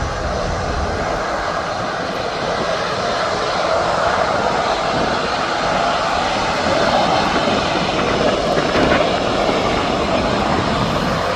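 A cargo aircraft on approach to land at Birmingham International Airport makes a loud, steady engine roar that holds for the whole stretch, swelling slightly toward the end with no pauses.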